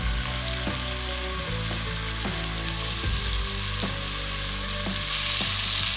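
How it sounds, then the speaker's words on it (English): Floured lamb pieces brown in a hot pan with a dense, continuous close sizzle, punctuated by a few sharp clicks of a utensil or the pan, with no talking. "Don't meddle too much with the lamb at this stage. You just want to be browning each of the sides."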